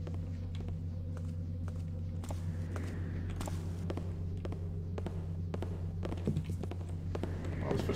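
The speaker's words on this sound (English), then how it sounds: "Footsteps sound really loud." Footsteps in the stealth game Thief sound as a series of sharp, fairly loud thuds at an irregular walking pace over a constant low droning hum.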